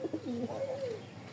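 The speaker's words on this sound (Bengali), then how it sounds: "খুবই ভালো মানের একটু কবুতর দুইটা" Neela pigeons coo in a short, close phrase of soft, low warbling notes rising and falling over about a second, with no talking.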